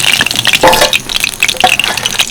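Pieces of banana flower sizzling in hot cooking oil and being lifted out with a ladle, giving a loud, close bubbling crackle with scraping stirs.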